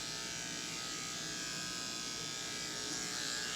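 Electric hair clippers fitted with a 15 blade and a 1 comb grooming a dog, a steady close buzzing hum that runs without a break for the whole stretch.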